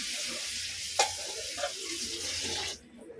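Hot oil sizzles steadily in a pan, heated for frying and for biryani, a close bright crackle with a couple of small clinks before it cuts off near the end.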